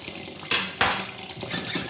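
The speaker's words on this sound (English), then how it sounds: "So you're going to be putting about 2 cups of water into this tea" Water splashes into a pot holding pineapple peels for tea, a steady pour with a couple of sharper splashy bursts and faint clinks of cookware, close and fairly loud with no talking.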